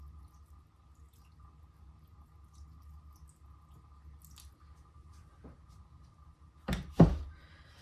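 Fertilizer-laced water is poured from above into a potted plant: a low, quiet hum holds for several seconds, then a short, close splash and wet squish of liquid soaking into the soil near the end.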